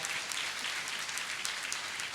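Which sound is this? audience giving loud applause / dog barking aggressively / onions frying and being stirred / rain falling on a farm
audience giving loud applause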